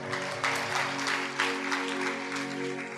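A church congregation at a sermon claps together in loud, sustained applause, dense rhythmic hand claps filling the hall over a steady tonal drone.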